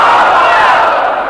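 Large crowd at a religious sermon roars the takbir slogan Allahu Akbar in unison, a loud, dense massed shout filling the whole moment.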